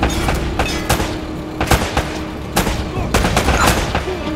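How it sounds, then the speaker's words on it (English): Gunfire in the video game Uncharted: Drake's Fortune: loud, dense bursts of automatic shots and rapid cracks that run for a few seconds, with no talking. "Less talking, more shooting!"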